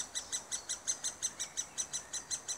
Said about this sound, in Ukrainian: І то його вже кричать пташенята.